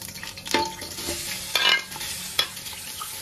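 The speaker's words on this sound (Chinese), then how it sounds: "加入1两半油，葱姜下锅" Scallion and ginger fry in oil inside a pressure cooker on the stove, a steady close sizzle broken by several sharp scraping stirs of a spatula against the pot.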